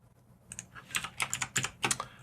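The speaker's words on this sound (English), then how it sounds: "Alt, Shift, and A on your keyboard will add" Computer keyboard keys pressed for a keyboard shortcut, a quick run of crisp, close clicks in uneven bursts with no talking.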